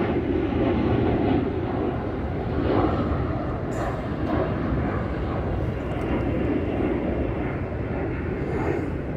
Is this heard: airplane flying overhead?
yes